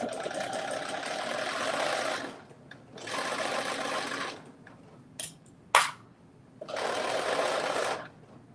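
A sewing machine stitches in three separate bursts of steady whirring, each about one and a half seconds long, with quiet gaps and a couple of sharp clicks between them.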